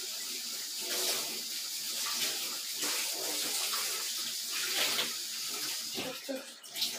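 Kitchen tap water runs steadily into a sink during washing, a continuous close splashing stream with small variations in flow throughout.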